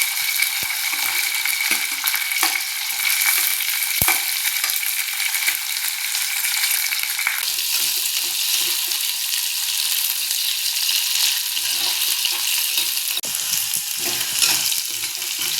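Shallots, garlic and curry leaves sauté in hot oil for a brinjal kara kuzhambu, giving a continuous bright crackle with occasional soft clicks from a stirring spoon.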